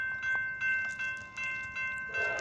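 An Amtrak Talgo passenger train led by a Seahawks-liveried locomotive approaches southbound on the main track, giving a faint, rhythmic rumble with periodic wheel clicks and a steady tonal hum.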